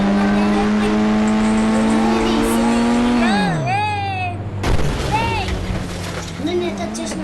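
A car driven in the mobile game Indian Bike 3D, its synthetic engine holding a steady drone, then sliding down in pitch with whiny swooping tones before revving again, loud and close.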